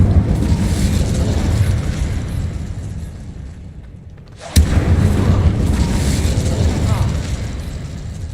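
A fire spell cast in the Hogwarts Legacy video game gives a sudden loud burst about halfway through, over a dense, continuous rumble of game sound before and after.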